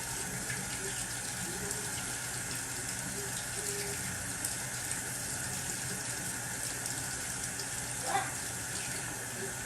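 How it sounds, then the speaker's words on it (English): Tap water runs steadily while hands are washed, a constant close gush with a brief splash near the end. "I am going to go wash my hands though"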